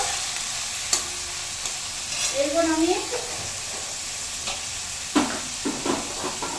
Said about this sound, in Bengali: মাছটা এবার আমি একটু ভেজে নেবো, বেশি ভাজবো না, হালকা করে ভাজবো।